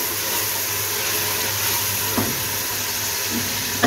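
A large chopped tomato stirred into chicken haleem in a pan, a continuous soft sizzle with occasional faint scraping strokes, close and steady.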